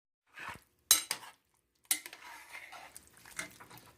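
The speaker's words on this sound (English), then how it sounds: "I'm stirring, as you can see. Stir it well." Squash and chicken stirred with a metal utensil in a pot, several separate scraping clinks and sloshing strokes against the pot in quick succession with short quiet gaps, close and moderately loud.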